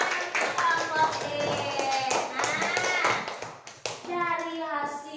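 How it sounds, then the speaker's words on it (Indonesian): Classroom applause for a student group, scattered hand claps mixed with children's voices and chatter, lively and uneven, with a short lull before voices resume. "tepuk tangan untuk kelompok D"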